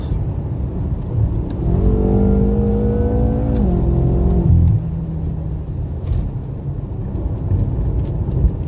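A close, loud tuned BMW M5 F10 engine revs up hard with a rising whine, holds high, then drops off, leaving a low rumbling idle and road noise.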